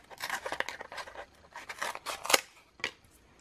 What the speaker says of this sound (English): So I'm just gonna cut these lines over here.